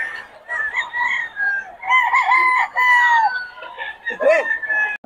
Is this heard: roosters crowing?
yes